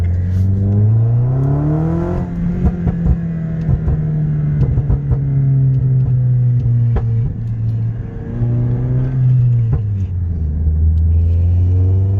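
A tuned Toyota Corolla engine rumbles loud and close, revving up and settling back, with the exhaust gurgling and giving scattered sharp pops through the low, throaty drone.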